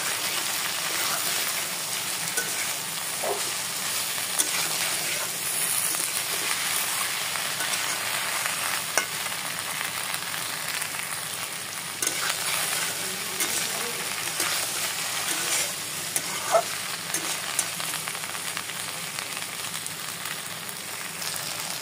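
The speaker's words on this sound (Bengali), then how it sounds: "লবণ ও হলুদের গুঁড়ো দিয়ে খুব ভালো মতো ঢেঁড়সটাকে ভেজে নেব" Chopped okra frying with salt and turmeric in a pan, a steady close sizzle running throughout with occasional light clinks and stirring scrapes.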